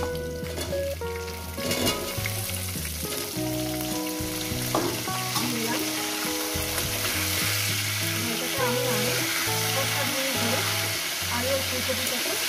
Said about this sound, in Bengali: ফুলকপিটাকে ভেজে নেব।